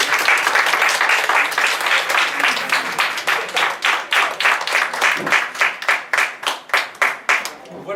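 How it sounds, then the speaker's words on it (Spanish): Audience applause at a spring welcome concert by a rondalla and choir in a residence in A Coruña: dense, loud clapping that thins into distinct rhythmic claps toward the end. "Les damos un aplauso para que se animen."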